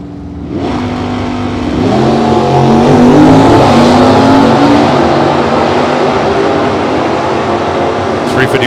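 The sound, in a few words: Ford Mach 1 with 351 Cleveland 4-barrel engine drag racing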